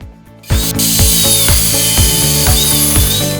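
An old Craftsman 200 power tool cuts through 2-inch aluminum stock in a workshop, starting abruptly and grinding on loud and close with a rhythmic pulsing whine.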